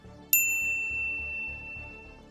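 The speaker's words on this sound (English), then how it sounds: "ring the bell to get notified about our latest videos" A single bright notification bell ding strikes once and rings out clearly over a soft, steady music bed, its tone lingering for about a second before fading.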